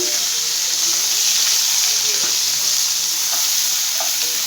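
Onion and green chillies frying in a pan for a ridge gourd curry, a steady, loud, close sizzle with faint stirring scrapes and no talk.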